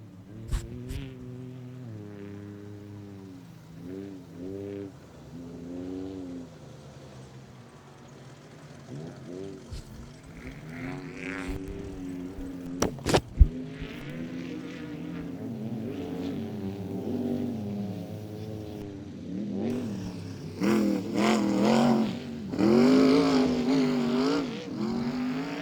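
Trophy trucks and Class 1 off-road racers scream by at the Rage at the River race, engines rising and falling in pitch as several pass one after another, growing louder and harsher toward the end.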